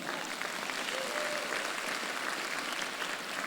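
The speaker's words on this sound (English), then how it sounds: "a round of applause to you" Graduation ceremony audience at a spring commencement claps for the families, an even, sustained round of applause filling the hall throughout.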